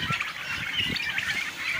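A flock of turkeys on a farm in Bangladesh calls continuously, with overlapping honking and gobbling-like squawks forming a busy, steady racket close by.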